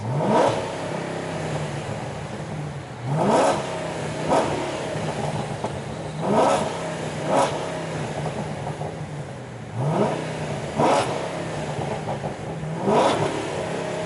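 A modified Chevrolet Caprice police car engine revs repeatedly through an open exhaust, loud bursts rising and falling in a regular rhythm with no talking.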